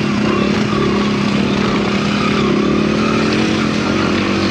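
An XR dirt bike engine runs steadily and loudly in snow, a continuous close motor drone with a mild revving edge throughout.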